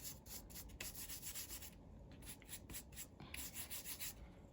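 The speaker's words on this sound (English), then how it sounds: "I'm just gonna paint the chipboard" A brush paints chipboard with leftover paint, giving soft, close scratchy strokes in a repeated back-and-forth rhythm, faint and steady.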